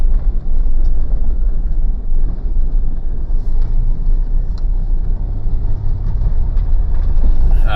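A Mitsubishi Pajero that has an engine stalling issue is driving along, its engine and road rumble loud, steady and close throughout, with no talking.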